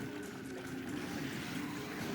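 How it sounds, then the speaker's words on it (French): Steady watery bubbling and gurgling from the video game Monster Hunter Freedom Unite that runs the whole time at a moderate, even level, with no talking over it. "Les bulles, on les voit pas bien, mais on l'entend bien."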